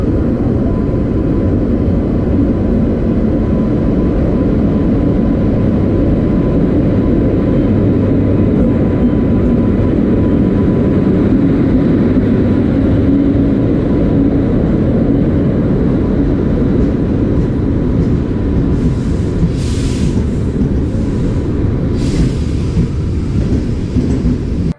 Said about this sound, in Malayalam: കൂട്ടുകാരെ, നമ്മൾ ട്രെയിനിൽ കയറിയിരിക്കുന്നു.